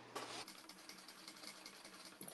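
A sewing machine runs briefly while stitching a seam on a fabric piece, a quiet, fast mechanical chatter that starts with a sharp burst and continues as an even rattling hum.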